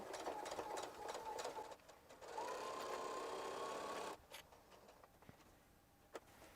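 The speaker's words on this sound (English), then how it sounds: "we're going to sew to this line, back stitch" A sewing machine stitches a simple zipper pouch in short bursts of fast, close mechanical whirring, pausing briefly between runs and ending with a few light clicks.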